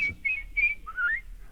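A person whistles a few short, bright chirps and a quick trill, imitating birdsong. The notes come in brief bursts against faint background noise.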